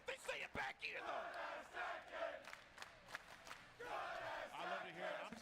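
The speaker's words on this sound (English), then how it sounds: "But the crowd is letting you know what we're seeing here." A live crowd at a Tekken 8 top-eight tournament cheers and yells continuously, loud and dense, surging again toward the end.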